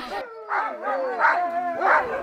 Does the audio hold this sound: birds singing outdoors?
no